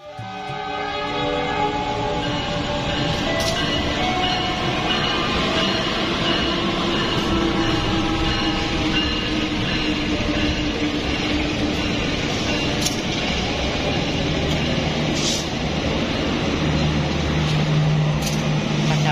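An Indonesian local passenger train rumbles past close by for the whole stretch, a steady heavy roar of wheels on rails with faint horn tones rising above it.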